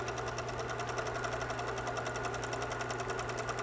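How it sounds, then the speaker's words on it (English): A serger sewing machine stitches along a fabric edge while its knife trims the cloth, producing a fast, even mechanical chatter that stays constant and fairly quiet throughout. "The knife is cutting fabric all the while, and it's giving us a beautiful edge so that the fabric never frays."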